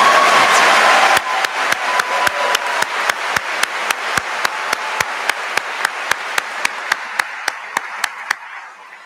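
Applause at a university State of the University address: a brief full round from the audience quickly thins to a single pair of hands clapping in a steady, evenly spaced rhythm that slows and fades.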